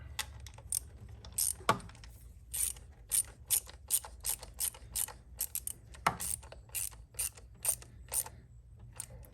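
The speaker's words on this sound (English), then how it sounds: "And then we'll just tighten this up." A ratchet tightens hose clamps on an oil separator in the engine bay of a 2016 Ford Edge 2.7. Quiet, crisp bursts of clicking repeat in short, irregular strokes, with a couple of duller knocks in between.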